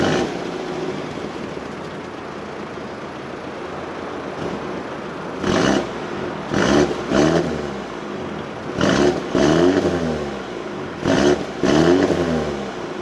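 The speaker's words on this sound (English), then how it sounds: "So it has a decent sound for a 2-liter engine." A 2020 BMW M135i's 2-liter engine idles steadily, then gives several short, loud revving bursts, each rising and falling in clusters, with a deep tone.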